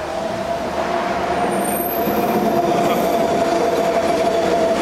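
A sky train passes near Holland Park, a continuous loud rumble of rail cars with a steady whine and faint squeal over it.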